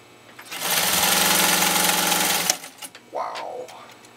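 A PFAFF 18 sewing machine stitches through three layers of woven canvas in one loud, steady run of about two seconds, then stops; a person speaks briefly afterward.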